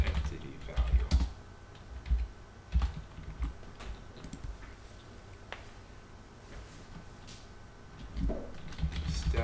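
Computer keyboard typing code for a procedural story generation game tutorial: bursts of irregular, fairly close key clicks with brief pauses and a few soft bumps.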